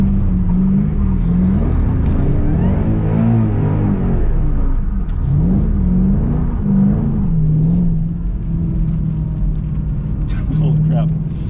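A 2013 or 2014 Shelby GT500 pulls hard on a wet road with traction control fully off, its engine rumbling loud and close through rising and falling revs as gears change, with a driver talking throughout.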